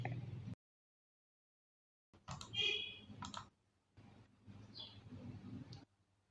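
A computer mouse clicks while selecting a website template for a T-shirt design, a few faint, brief clicks spread across an otherwise quiet desk recording with low room noise.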